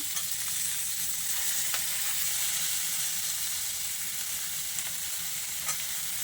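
Steady hissing sizzle of tomato frying in a pan for pirandai chutney, continuous and fairly close, with a few faint clicks of utensils and no talking.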